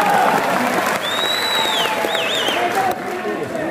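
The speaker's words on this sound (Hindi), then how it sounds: "बजा दी ताली, अब ये आदमी बजा रहा है।" An audience at a mushaira in Saharanpur claps steadily, a dense wash of applause from a crowd that persists throughout, with a voice heard over it.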